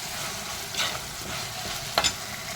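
Drumstick pieces being sautéed in a mashed tomato masala for prawn curry, a steady low sizzle with a couple of louder stirring scrapes near the end.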